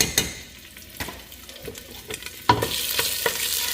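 Chopped garlic sizzles in an olive oil tempering in a pot for kadhi pakora, with close stirring clinks and scrapes, and the hiss grows louder and denser partway through.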